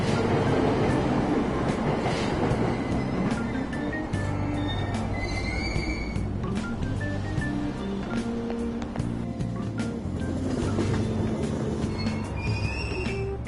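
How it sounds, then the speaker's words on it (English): A subway train pulls away from a platform at Aoyama-itchome station in Tokyo on a service bound for Asakusa, with a loud, steady rumble of the cars and high wheel squeals throughout. "Train doors are now closing. Please stand back."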